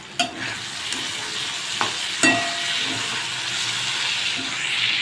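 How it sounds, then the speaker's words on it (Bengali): Potatoes fry in a pan in a home kitchen, giving a steady close sizzle with occasional stirring clatters and a brief clink. "আর এদিকে হচ্ছে আলু ভাজতে দিয়েছি।"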